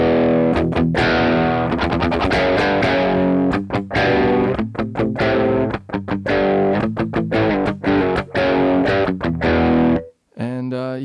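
Electric guitar played through two stacked overdrive pedals, loud and crunchy with saturated chords and choppy rhythmic stabs, up close and continuous, ending abruptly.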